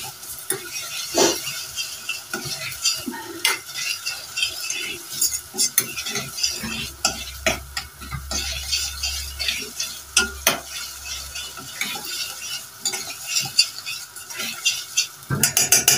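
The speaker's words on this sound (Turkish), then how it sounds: "Şimdi salça koyacağım. Şöyle" Tomato paste sautés in a pan, giving a soft continuous sizzle under frequent scraping and clinking from a utensil stirring it, with a low hum partway through.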